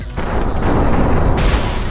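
Machine gun fire in the video game People's Playground comes as a loud, booming burst of rapid shots that lasts for the whole short stretch.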